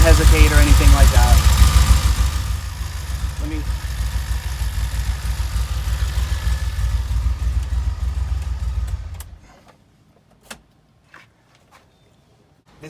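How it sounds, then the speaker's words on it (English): A 1982 DeLorean with mechanical fuel injection revs steadily and loud for about nine seconds, a throaty sustained drone that then cuts off abruptly, leaving a few scattered clicks and knocks in near silence. "just revving the engine, making sure that it doesn't hesitate or anything like that"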